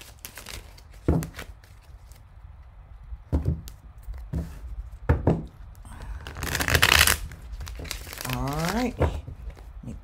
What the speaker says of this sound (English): and do a bit more shuffling